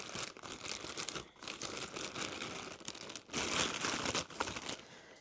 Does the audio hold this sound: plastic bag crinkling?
yes